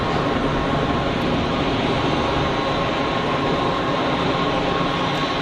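An easyJet jet rolls out after landing at Geneva Airport, a loud, steady broadband engine roar holding constant without pause, heard from nearby with no voices.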